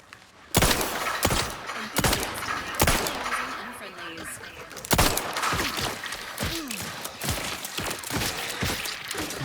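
Gunfire in The Outer Worlds 2 video game: a series of sharp, loud shots at irregular intervals with impacts and thuds between them, over a busy background, with a voice heard briefly.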